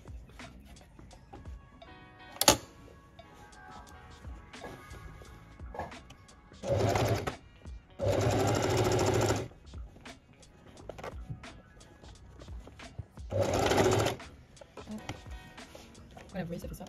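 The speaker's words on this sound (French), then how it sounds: "on fait une surpiqûre le plus proche possible du bord sur le petit col" A sewing machine topstitches close to the edge of a small jacket collar in several short, loud bursts of rapid stitching, with quieter gaps and someone speaking French between the runs.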